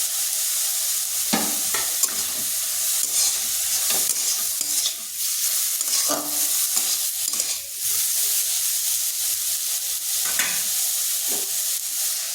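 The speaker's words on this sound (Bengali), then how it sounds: "একটু ভেজে নিচ্ছি যাতে তার জল জল ভাবটা কেটে যায়।" Cauliflower and green chilli fry in a pan for a paratha filling: a steady, close sizzle runs throughout, broken by repeated scraping stirs of a spatula, with no talk.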